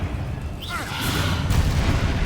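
Confringo blasting spell in the Hogwarts Legacy video game, a fiery explosive boom with crackling burst and rumbling low end, swelling after a short whooshing cast amid ongoing battle noise and creature sounds.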